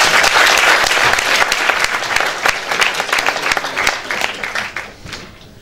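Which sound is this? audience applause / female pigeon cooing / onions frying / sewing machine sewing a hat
audience applause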